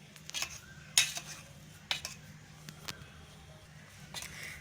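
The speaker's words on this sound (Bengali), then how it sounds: "এরমভাবে দিয়ে আমি একবার মিশিয়ে দিচ্ছি ডিমটা দিয়ে।" Pieces of chicken donut are turned through beaten egg in a bowl, giving quiet wet squishing and a few sharp clinks of utensil against the bowl, close and otherwise hushed.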